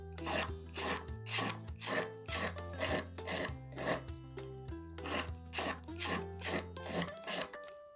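Household scissors blade being sharpened on a file, pushed from outside to inside in repeated steady rasping strokes, about a dozen in a row, close and loud with no talking.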